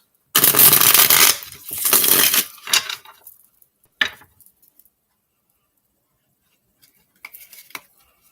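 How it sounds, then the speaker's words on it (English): A deck of cards is shuffled close by in two quick, loud riffling bursts, followed by a few soft handling clicks and taps, then near silence. "I like to shuffle and deal from 5D down to 3D"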